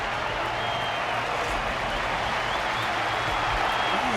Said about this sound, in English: Their constant applause is a salute to this resilient Belabogian fighter.